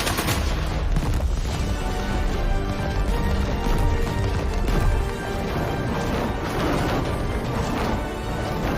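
Rapid bursts of gunfire crack out in quick succession, loud and close, forming a dense, continuous barrage with no voices.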